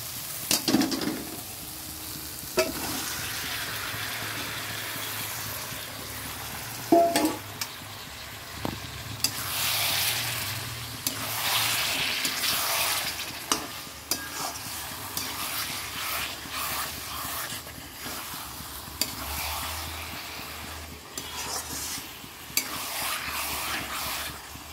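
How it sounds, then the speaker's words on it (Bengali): Meat sizzles and fries in a pan of spiced masala, a steady close crackle with repeated scraping stirs and occasional clinks of a utensil against the pan. "এবার এটা দিয়ে দিই মাংসগুলো।"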